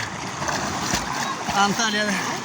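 Salty sea water at Antalya splashes and sloshes steadily around a swimmer, close and continuous, while a person talks over it.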